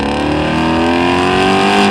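A Ford Mustang Shelby GT350 engine revs loud and close, a sustained rising roar with strong harmonic tone that holds and climbs through the clip without any talking.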